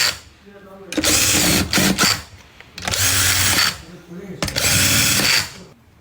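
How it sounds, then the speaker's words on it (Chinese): Three bursts of a power driver whirring loudly up close as screws are run tight on a Mercedes M274 alternator, each lasting a second or two with short quiet gaps between. "把螺丝拧紧"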